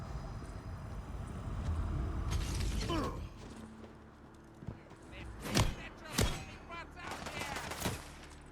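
Gunfire in Tiny Tina's Wonderlands aimed at raw quartz holding up rocks: a dense burst of shots early on, then several separate loud sharp bangs spaced apart over game background noise.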